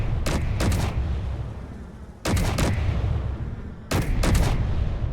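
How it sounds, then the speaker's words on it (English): Rockets fired in the space combat game Space Engineers, three clusters of sharp, punchy launch blasts, each made of two or three quick bangs, loud and close over a low rumbling background. "Here comes the rockets."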